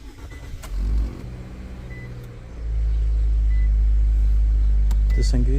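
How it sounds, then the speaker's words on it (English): An Infiniti QX50 SUV engine starting, a brief crank and then a steady low idle hum that settles in and keeps running, with an electronic beep and a voice nearby. "Alright, let's turn it on."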